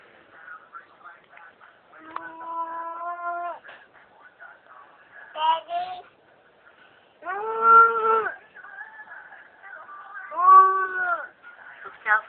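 A person imitates a cow, giving several drawn-out, voiced moos spaced apart, mixed with softer talking in between.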